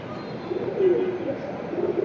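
Pigeons coo in soft, low, throaty rolls nearby, repeating through the moment over faint background noise.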